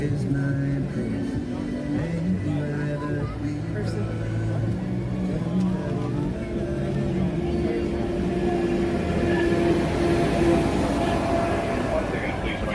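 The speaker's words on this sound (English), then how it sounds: "please remain behind the yellow sticky line until the tram comes to a full and complete stop" A Disneyland tram rolls into the boarding area with a steady, close rumble of motor and wheels that swells slightly toward the end, as people talk and an announcement plays over it.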